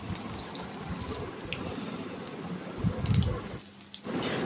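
Jackfruit pakoras fry in hot mustard oil, giving a steady close sizzle and crackle that swells briefly before easing.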